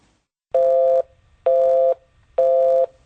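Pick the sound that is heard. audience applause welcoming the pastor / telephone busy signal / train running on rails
telephone busy signal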